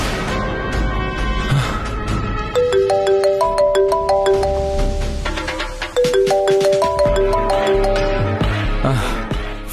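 A mobile phone ringtone rings on unanswered, its bright melodic electronic tune repeating steadily and loudly for the whole stretch with no voices over it.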